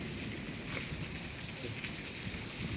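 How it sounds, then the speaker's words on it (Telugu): Steady rain falling during a night storm with thunder and wind at a rural ashram, a continuous even hiss with soft drops, fairly faint and without voices. "ఉరుములు మెరుపులు, గాలి వాన"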